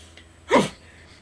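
A man imitates a sneeze with his voice, a single short, loud burst with a sharp breathy onset that fades within half a second, alone against quiet room tone.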